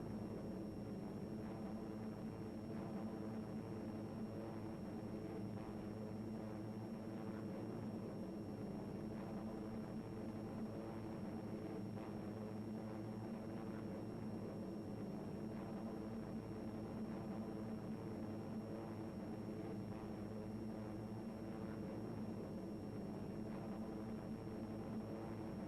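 Several P-47 Thunderbolt fighter planes fly in a loose string formation, one behind another, their propeller engines giving a steady, even drone with a constant hum throughout and no voices.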